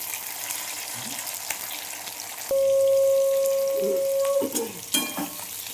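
Tomatoes sizzle and fry in a hot pan, a steady crackling hiss throughout with a few stirring clatters, and a sustained tonal hum partway through.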